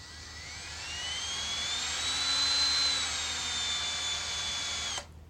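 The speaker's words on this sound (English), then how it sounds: "So just keep watching while I drill." A power drill with a 1/2 inch bit whines steadily for about five seconds drilling through a steel flange, a sustained high-pitched grinding tone that rises slightly and then cuts off abruptly.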